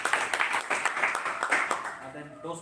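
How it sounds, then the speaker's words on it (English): Audience applause at a Toastmasters club meeting, a steady patter of clapping hands that fades toward the end. "Toastmaster Prasanna Venkateshan, clear speech, please give applause."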